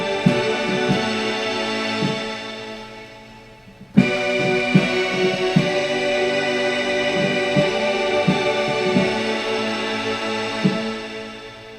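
Nord Stage 2 synth notes with a long release, repeated plucky tones whose tails ring out and linger in a sustained wash, moderately loud and alone.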